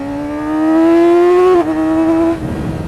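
A 600cc motorcycle engine climbs in pitch as it accelerates, loud and close, briefly dips at a gear change, then pulls on before the revs fall away.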